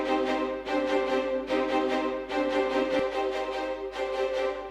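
A sampled strings melody with the low end cut by EQ and washed in a fruity reverb for an ambient feel, sustained bowed phrases swelling in several waves, smooth and continuous at moderate level, with no talking.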